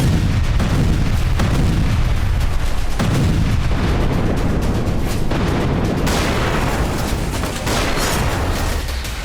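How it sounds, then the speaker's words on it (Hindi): Russian FAB bomb strikes on Ukrainian positions in Kursk: a continuous barrage of loud, heavy booms and blasts, with several sharp impacts roughly every few seconds over a dense rumble. "फैब बमों से विस्फोट के बाद यूक्रेनी ठिकाने कुछ इस तरह से चल रहे हैं"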